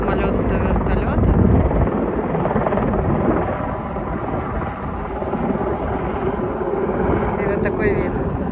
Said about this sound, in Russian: Очень часто сейчас летают самолеты, то вертолеты.